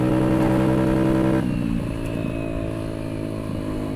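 Honda Metropolitan scooter engine bouncing off its rev limiter, a loud close buzzing drone that cuts back sharply after a second and then stutters at a lower, uneven pitch.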